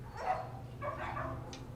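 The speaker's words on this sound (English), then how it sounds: "Poor dog." A dog in a movie scene barking and whimpering, a few short yelps and whines, quiet and somewhat distant over a low background hum.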